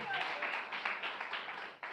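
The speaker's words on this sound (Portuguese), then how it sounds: "Uma salva de palmas para Jesus de Nazaré." A church congregation applauds during a sermon, a soft, fairly distant round of clapping with individual claps faintly audible, while a voice briefly sounds at the start.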